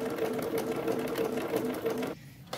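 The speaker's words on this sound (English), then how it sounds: "And then we just let it sew." A sewing machine stitches a seam for a vintage-style babydoll pajama set, running in a fast, even whir close by, then stopping abruptly near the end.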